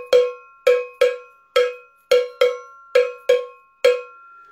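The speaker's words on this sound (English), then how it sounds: "the cowbell." Cowbell struck nine times in an uneven rhythm, each hit a bright metallic clank that rings briefly before decaying, clear and close with no voices.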